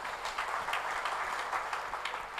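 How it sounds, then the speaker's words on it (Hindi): Applause from a seminar audience at a business event fills the room, many hands clapping in a steady, moderately distant crackle that continues evenly for a few seconds with no speech. "इनके लिए एक जोरदार ताली मिलनी चाहिए।"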